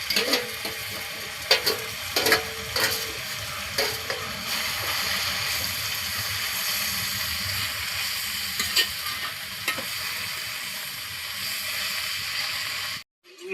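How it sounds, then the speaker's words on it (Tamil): Kuppaimeni greens being sautéed with onion and garlic in a pan, giving a steady, close sizzle with clinking stirring scrapes scattered through it, ending abruptly. "கீரையும் போட்டு ஒரு லைட்டாக ஒரு வதக்கிக்கிறோம்"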